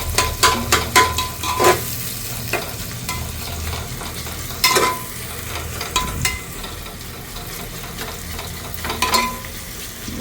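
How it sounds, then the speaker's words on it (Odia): Chopped onions sizzle steadily in hot oil in a pan for a mutton curry, with a spoon stirring and scraping in repeated bursts over the frying, close and fairly loud. "ଏବେ ପିଆଜଟା ଟିକେ ଛାଡ଼ିଦେବା ଯେପର୍ଯ୍ୟନ୍ତ ବ୍ରାଉନ୍ ଆଉ ରେଡ଼୍ ନ ପଡ଼ିଛି"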